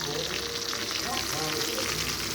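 Garlic ginger chicken sizzles and fries in a pan over high heat, a steady dense crackle of hot oil running evenly throughout at close range.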